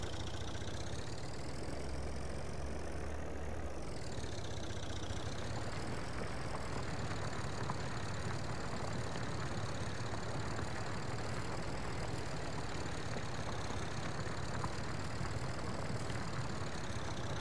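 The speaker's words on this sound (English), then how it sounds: "This tractor's quite interesting. When you lift off, it literally stops dead." A farm tractor engine runs steadily at idle, a continuous low rumble with a mid-pitched drone above it and a brief dip in revs near the start, with no talk over it.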